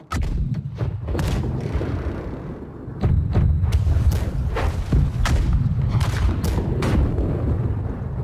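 Heavy ship cannon fire in the naval battle game Blackwake, a rapid series of deep booming thuds over about eight seconds, with a louder volley partway through, close and sustained against low rumbling background noise.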